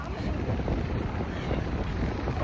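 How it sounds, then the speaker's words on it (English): Strong wind at the beach buffets the microphone with a loud, steady roar and rumble that holds without a break. "It's hella windy right now."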